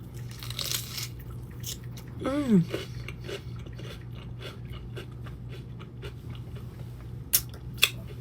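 Crunchy biting and chewing of food, a few crisp close crunches followed by softer rhythmic mastication, with a brief vocal sound in between.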